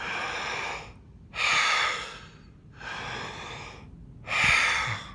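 Cyclic deep breathing done as a breath exercise, with four strong, regular breath cycles of loud airy inhales and exhales heard up close with no talking.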